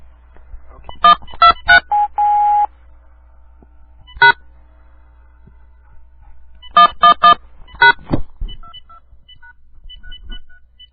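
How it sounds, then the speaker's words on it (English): Touch-tone telephone dialing: a quick run of clear DTMF beeps, a short pause, a single tone, then another burst of rapid keypresses, followed by faint line tones, close and loud. "I'll dial him and I'll be right back"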